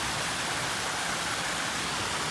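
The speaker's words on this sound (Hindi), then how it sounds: "देख रहल छियै पहुँच गेल छी एकदम पहाड़ में, झरना में।" A mountain waterfall pours steadily, a loud, dense broadband rush of falling water that holds constant and close throughout with no other sounds.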